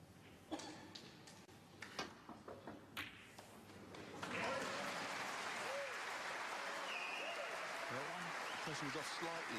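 Snooker crowd at a German Masters match breaking into sustained applause, filling the room after a few scattered claps and thumps, while a commentator's voice carries underneath.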